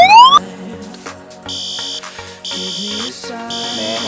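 Fire alarms sound through a hotel, Bloxday Inn Suites, during an evacuation: a rising whoop, then repeated loud electronic tones and buzzing pulses with a steady harmonic ring, close and continuous, with no speech over them.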